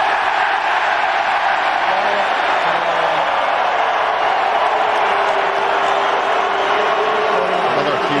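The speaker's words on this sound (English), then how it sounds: "huge cheer in Sydney" Stadium crowd roaring steadily throughout a Rugby World Cup 2003 match in Sydney between South Africa and Georgia, a loud, dense wall of cheering with no break.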